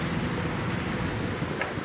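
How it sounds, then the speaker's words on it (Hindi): Heavy rain falls on flooded streets along the Sialkot Bypass area of Gujranwala, a constant loud hiss with no letup and no voices over it. "इस वक्त गुजरांवाला में शदीद बारिश हो रही है जी"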